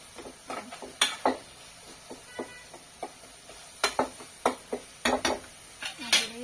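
Tomatoes cooking down in a pan, stirred with a utensil: a series of sharp scraping clicks and knocks at irregular intervals over a quiet sizzle, with a voice talking faintly in between.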